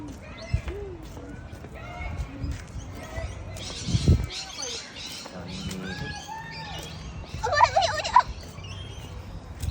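Bird calls ring out at Perth Zoo, tagged as turkey-like gobbling, with a loud burst of calls near the end over steady visitor chatter and ambient zoo noise.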